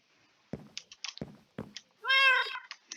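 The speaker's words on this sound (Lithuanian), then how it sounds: "Turim katiną" A single meow from a Minecraft cat rises near the end, after a few sharp clicks and taps of game input.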